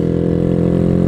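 Vader 125cc motorcycle fitted with an AR aftermarket exhaust idles steadily, a close, even, buzzing single-cylinder drone with a rapid regular pulse and no voices.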